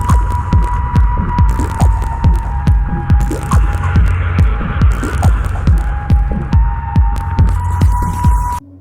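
Song sampled into the PlayStation racing game Vanishing Point, heard as a loud, heavily processed pulsing loop: thumping low beats in a steady throbbing rhythm under a held humming tone and crackly high noise.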